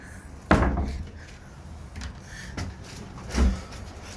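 A hinged bottom door on a wooden generator box is swung open and shut, giving a sharp knock, softer creaks and thuds, then a final closing bump, close and alone.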